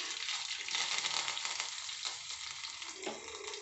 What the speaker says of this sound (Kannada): ಸಾಸಿವೆ ಜೀರಿಗೆ ಚಟಪಟ ಅಂತಂದ್ವಲ್ಲ, ಈಗ ಕುಟ್ಟಿದ್ದನ್ನು ಹಾಕೊಂಡ್ಬಿಡ್ತಾನೆ ನೋಡ್ರಿ